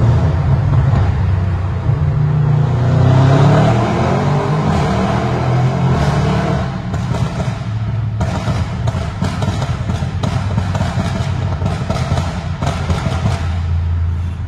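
Audi RS6 C8 with Stage 2 tuning and a Milltek exhaust, heard as a deep, loud engine rumble with accelerator blips and rising revs, followed by a crackling, popping idle.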